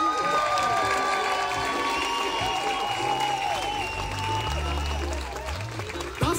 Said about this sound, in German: Einmal einen Applaus für euch alle hier.